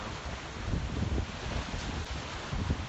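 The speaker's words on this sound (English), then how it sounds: "There are pretty heavy winds on the south side of the island" Heavy Typhoon Hato winds roar across the Star Ferry Pier in Hong Kong, a continuous broadband rush with gusts swelling and easing against the microphone.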